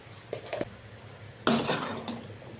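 Spoon stirring and mixing a salted dish in a metal pot on a gas stove, with a few light scrapes followed by a louder clatter of metal on metal, close by.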